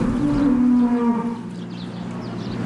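A cow at an educational farm gives one loud, drawn-out moo that fades after about a second, leaving quiet farm ambience.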